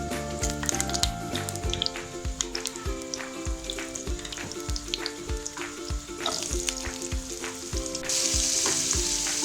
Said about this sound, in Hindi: आलू फ्राई कर लेती हूँ